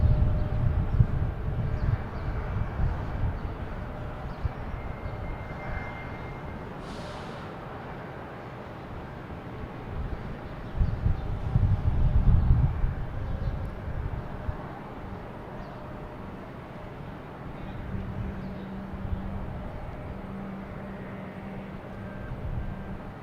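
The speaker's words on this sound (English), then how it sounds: "we got American Airlines taking off to Reagan, an E-175" An American Airlines Embraer E-175 takes off from Boston Logan bound for Reagan, a broad, steady jet rumble at middle distance that swells briefly and then holds, with a faint tone showing near the end.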